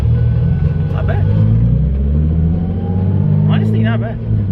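A 600 hp turbocharged Nissan 350Z accelerating, its loud engine rumbling steadily throughout with people talking over it.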